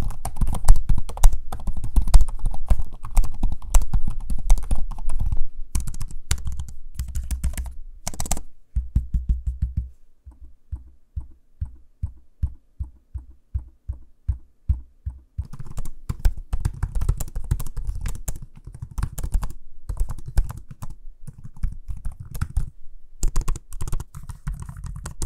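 Rapid laptop keyboard typing on an HP Spectre x360 or Samsung Galaxy Book4, then a stretch of steady, evenly spaced trackpad clicks, followed by more quick clattering keystrokes, close up with no talk.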